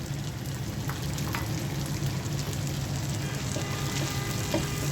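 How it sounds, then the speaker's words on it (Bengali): Boiled eggplant goes into a pan with beaten egg and green chilies, setting off a steady, close sizzle of frying that holds evenly throughout with faint scraping. "এখন দিয়ে দিচ্ছি সেদ্ধ করা বেগুনটা।"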